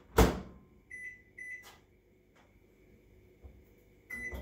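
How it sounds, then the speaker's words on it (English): A low, steady microwave hum runs quietly under scattered kitchen clatter, with a sharp knock at the start and a few faint beeps. "now I'm going to be putting it in the microwave for 1 minute"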